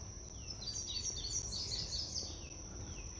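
A Tennessee warbler sings from high in the tree canopy along a woodland trail, thin rapid high chirps and trills repeating through the clip, faint and distant over a steady low background hum.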